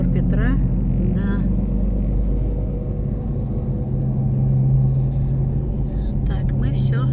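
A car drives along the Daugava embankment in Riga past the Old Town, its engine and tyres giving a steady, loud low rumble throughout with brief voices over it.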